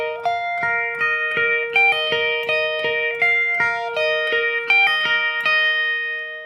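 Electric guitar plays a repetitive, high, catchy 90s alternative-rock melody with effects, ringing over sustained chords underneath in a steady rhythm, clean and close with no voices.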